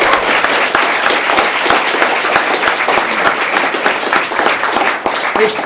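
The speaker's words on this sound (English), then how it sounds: "Let's give Andrew a round of applause." A live show audience claps steadily and loudly, with dense, continuous applause filling the whole stretch and no speech over it.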